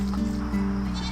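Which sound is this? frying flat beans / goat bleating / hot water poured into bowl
goat bleating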